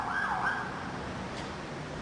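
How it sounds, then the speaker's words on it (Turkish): Ambulance siren from traffic at a busy city intersection, a faint wailing tone early on that fades under the steady hum of passing vehicles. "Yine bir ambulans sesi duyuldu fakat muhtemelen köprünün üstünden geçiyor"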